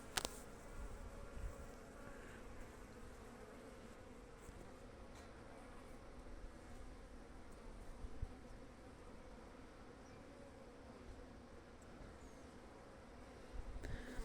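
Spring bees buzz steadily around a hive outdoors, a dense, continuous hum of many insects at moderate to faint level with no talk over it.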